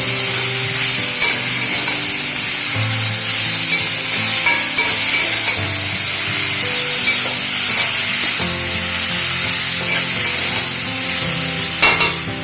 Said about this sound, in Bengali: পালং শাকগুলোকে একটু নাড়াচাড়া করে হালকা ভেজে নেব